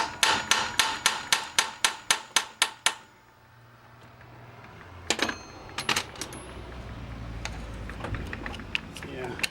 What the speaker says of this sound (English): A couple whacks here, see what happens.